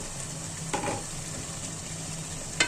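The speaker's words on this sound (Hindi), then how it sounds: "ये हमने अब आलू डाल दिए इसमें" Potatoes added to fried masala for aloo gosht, sizzling steadily in a pot with a couple of brief stirring scrapes, fairly quiet and with no talk.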